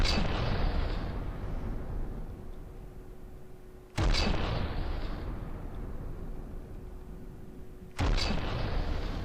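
Heavy 50cm big guns in From The Depths fire three booming blasts at a steady interval of roughly four seconds, each a loud sharp report rolling off into a long, rumbling decay.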